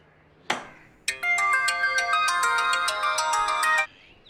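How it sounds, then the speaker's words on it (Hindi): A mobile phone ringtone plays a bright, repeating melodic tune for about three seconds after a short knock, then cuts off abruptly. "किसका फोन आया जा रहा है? बंद करो इसे"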